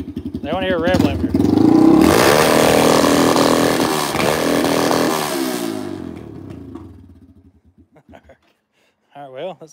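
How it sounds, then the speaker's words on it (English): Engine with its exhaust back on revs up and bounces off the rev limiter, a loud, harsh, sustained buzzing roar for several seconds that drops away, with people talking before and after. "They want to hear a rev limiter."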